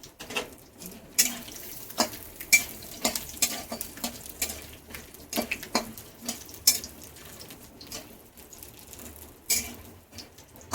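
Homemade bori, small lentil dumplings, fry in a pan until brown, giving a quiet crackling sizzle with irregular bursts of spatter and occasional light scrapes of a utensil against the pan.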